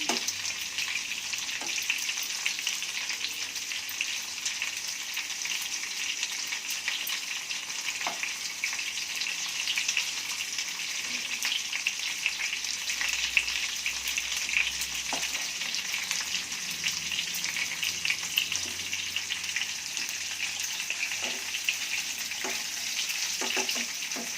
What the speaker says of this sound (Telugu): ఫ్లేమ్ ఎక్కువ చేసుకొని పైకి కిందికి ఇలా తిప్పుకోవాలి